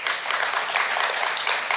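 An audience at a university event claps briefly in a dense, steady burst of applause that fills the whole moment without any speech.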